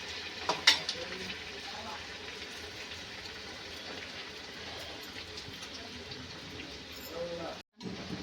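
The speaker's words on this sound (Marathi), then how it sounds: "कडक तेलामध्ये हे फ्राय करून घ्यायचं आहे." Paneer cheese cutlets fry in hot oil, giving a steady, moderate sizzle with a few brief clatters near the start and a short dropout near the end.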